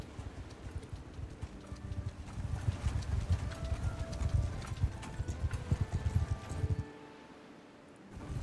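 Horse hooves galloping in the video game Mount & Blade 2 Bannerlord, a steady rapid clip-clop rhythm at moderate volume that continues for most of the stretch and then briefly drops away near the end.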